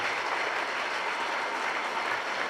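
A crowd at a school gathering in Kallakurichi gives the teachers a round of applause, a dense, even wash of clapping that holds steady throughout.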